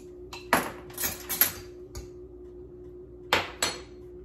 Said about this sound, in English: Stir it up till we get the green we like.